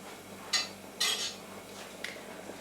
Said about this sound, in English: Just want to give the onions a stir.